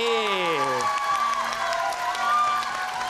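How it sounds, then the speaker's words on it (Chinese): Studio audience applause on a Taiwanese television variety comedy show, a steady wash of clapping and crowd noise that runs under a tonal voice or music at the start. "来宾掌声鼓励"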